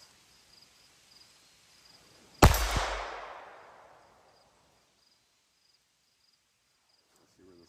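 A single loud Glock 44 pistol shot from an OEM magazine cracks out close by, its sharp blast trailing into a decaying echo over about two seconds, then near silence with a faint handling noise at the end.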